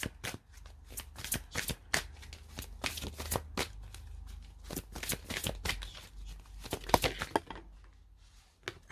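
Tarot cards shuffled and handled in quick, crisp bursts of riffling and snapping, close and fairly loud, with short pauses between flurries and no talking.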